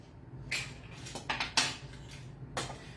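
Carrots chopped in a Tornado manual pull chopper with a pivoting blade: a few short clattering, scraping bursts of blade and plastic, fairly close, separated by quiet pauses.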